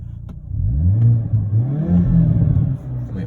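A 2022 Hyundai Kona N with its exhaust valves opened in N mode revs hard. The deep engine and exhaust note climbs and swells, holds for a few seconds, then settles, heard up close.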